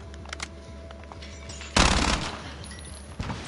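Gunfire in the video game Warzone: a short loud burst of automatic shots near the middle, with a few lighter taps before and a single sharp shot near the end, no talk.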